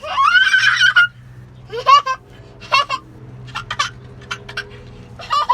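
Pet chicken-like fowl give a series of bright, excited clucks and squawks in short bursts, the first longest and loudest, with quieter chirps between over a low background hum.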